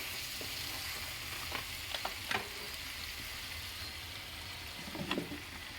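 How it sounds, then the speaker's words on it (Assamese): Local chicken frying in a pot as giant taro root is added, a soft steady sizzle with a few stirring scrapes and knocks, fairly quiet and close, no voices. "মাংসখিনি ধুনীয়াকৈ ভজা হৈছে, এতিয়া মই কচুখিনি দি দিম ইয়াতে।"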